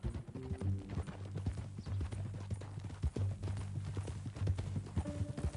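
Horse hooves clip-clop in a steady, close rhythm in Red Dead Redemption 2, layered over a low sustained music or ambience bed, with no talking heard.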